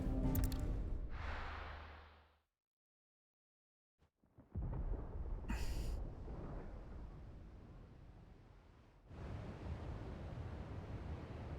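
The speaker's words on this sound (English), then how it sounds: "Sounds like thunder." Thunder in the video game Final Fantasy XVI, a deep rumbling roll that fades into total silence, then returns as renewed rumbling and a dense, sustained, stormy roar.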